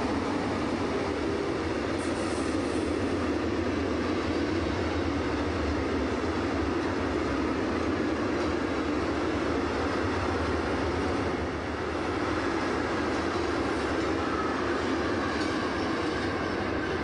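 An SETG class 185 electric locomotive runs light engine out of Chemnitz Hauptbahnhof, giving a steady, fairly loud rail rumble with faint wheel clatter that holds evenly for about seventeen seconds, with no voices.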